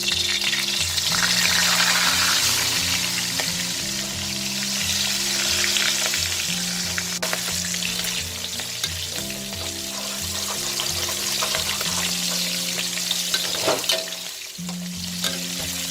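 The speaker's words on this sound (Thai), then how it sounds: "เทน้ำมันลงไปเลยค่ะ ค่ะ รอแล้วลงทอดเลยค่ะ" Shrimp sizzle and crackle steadily while deep frying in hot oil, a loud, constant frying hiss, with a low hum underneath and no talking.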